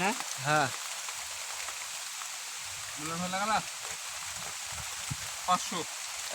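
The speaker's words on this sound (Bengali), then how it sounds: "কি পরিমাণ বৃষ্টি দেখুন বন্ধুরা" Heavy rain pours down steadily outdoors as a constant hiss, while people talk intermittently over it during a card game.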